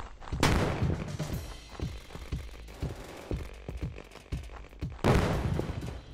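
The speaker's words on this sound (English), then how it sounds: "Ooh, that explosion." Battlefield 2042 team deathmatch combat: a burst of game explosions and gunfire, with a big blast near the start, a run of sharp repeated shots through the middle, and another loud blast near the end, all heard without talk.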